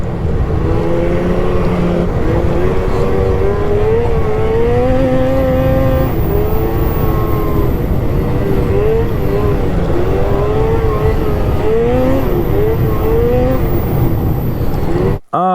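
A MINT 1200 engine with 858 clutching runs hard and close, a loud steady roar whose pitch climbs and falls as it revs repeatedly throughout, with no talking.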